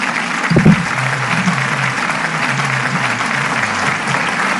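Steady audience applause at a Rally of Hope peace event after a pastor's prayer message, a dense, even wash of many hands clapping throughout, with a brief louder burst near the start.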